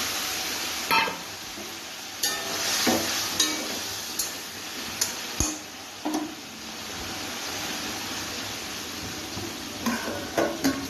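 Pointed gourd frying in mustard paste in a pan gives a soft, steady sizzle, with occasional sharp clinks and scrapes of a utensil against the pan.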